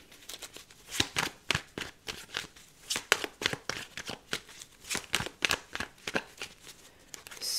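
A deck of tarot cards is shuffled close up in a rapid series of crisp riffling and slapping bursts. The shuffling continues alone and clearly throughout.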